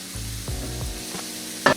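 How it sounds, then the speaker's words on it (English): Chopped garlic sizzles steadily in a hot pan with an even, close crackle, broken by a few soft utensil scrapes and a brief louder clatter at the end; no voices. "You're just gonna wait until this starts sizzling."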